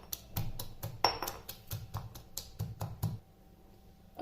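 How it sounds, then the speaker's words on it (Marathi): Garlic cloves are pounded coarsely in a mortar and pestle, giving about a dozen quick, fairly faint knocks in an uneven rhythm before the pounding stops and the room goes quiet. "मी खलबत्त्यामध्ये याला आता थोडं जाडसर कुटून घेते"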